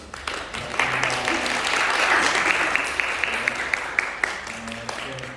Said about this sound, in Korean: 여기서 박수로 환영합니다.